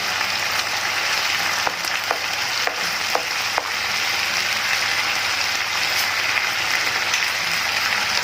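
Garlic hits chopped liver frying in a hot pan, producing a steady, close broadband sizzle with a few sharp spatter pops and no talking.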